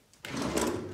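A drawer in a beach condo kitchen opens or closes with a sudden onset of broadband sliding noise that continues steadily, close and moderately loud, with no talk.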